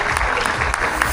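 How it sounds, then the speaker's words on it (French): Audience clapping steadily for arriving riders of a continental cycling team at an outdoor team presentation in Bourg-en-Bresse, a dense sustained applause with a few sharper claps standing out. "les coureurs arrivent, donc on peut les applaudir"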